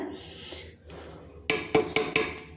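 Flour is tipped from a bowl into a bell-metal plate, giving a quiet rustle followed by four bright metallic clanks in quick succession, close and ringing.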